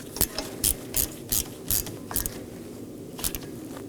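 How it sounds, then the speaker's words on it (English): A ratchet fitted with a T30 Torx bit snugs down a rotor set screw on a 2018-2024 Chevrolet Equinox 1.5L, making close, evenly spaced bursts of clicking, about eight strokes with a short pause before the last two. "Now I'm going to snug it down with my T30 Torx bit."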